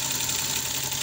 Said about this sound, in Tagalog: So, nasa injector tong may konting ano, tik-tik-tik.